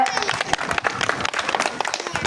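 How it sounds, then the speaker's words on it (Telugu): Audience applause at a bhajan competition prize ceremony in Pullagummi, a dense patter of clapping hands filling the hall while a prize is presented, with speech and crowd noise mixed in. "అందరూ చప్పట్లు కొట్టండి గట్టిగా"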